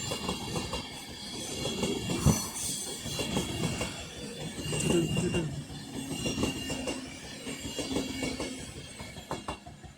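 A Class 390 Pendolino electric train, unit 390 049, runs through Crewe station at speed, with a steady rolling roar, wheel clatter and faint squeals over ten seconds, close by and with no voices.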